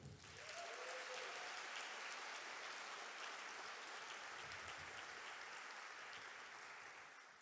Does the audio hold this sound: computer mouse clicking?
no